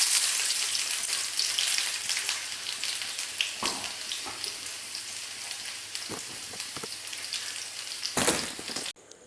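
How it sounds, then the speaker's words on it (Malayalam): Small onions frying in hot coconut oil for an egg curry tempering, a steady close hiss and crackle running throughout with a few sharper pops and spatters, no voices. "ഇനി ഇതിലേക്ക് ചെറിയ ഉള്ളി ചേർത്ത് കൊടുക്കാം."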